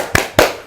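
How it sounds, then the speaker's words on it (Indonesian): A group claps in unison for a spirited Indonesian tepuk semangat chant, two sharp, loud, evenly spaced claps close by with no talking. "Ayo tepuk semangat dulu ibu-ibu ya"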